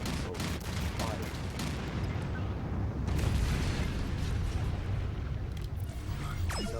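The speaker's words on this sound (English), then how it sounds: "Fire. Nuclear missile. Fire." A nuclear missile launches in the futuristic city-building game Anno 2205, producing a dense, rumbling roar with booming low end that swells midway and stays loud and continuous, with brief sharper cracks toward the end.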